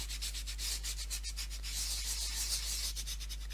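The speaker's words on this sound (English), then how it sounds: "I'm going to just take my squeegee once again and I'm going to just give that a good old rub." A squeegee is rubbed firmly over vinyl applied to a wine bottle, giving a steady run of close, rhythmic scraping strokes with no talk.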